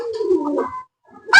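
An Aseel pigeon gives a single close, soft throaty coo that fades out, followed by a short sharp noise.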